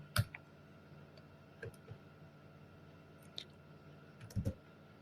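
Someone types on a computer keyboard in a quiet room: a few sparse, soft key clicks spread across a few seconds, with a small cluster of taps near the end and no voices.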